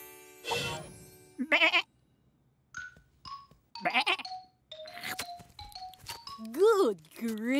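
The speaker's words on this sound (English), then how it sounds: "Goat!" A cartoon goat bleats in a children's alphabet animation, several quavering, wobbly cries mixed with chimes and bright sound effects in a busy, lively scene.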